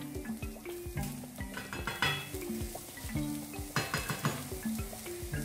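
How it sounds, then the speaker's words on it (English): Shallots fry in a generous spoonful of coconut oil for a Kerala-style theeyal, sizzling steadily while a utensil stirs and scrapes the pan in a quick, regular rhythm; the sound is close and there is no talk. "And then I'm going to add in the shallots there."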